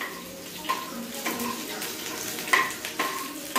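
Onion frying in a pan for a drumstick masala: a steady, low sizzle runs throughout, broken by several sharp stirring scrapes and clatters, with no talking.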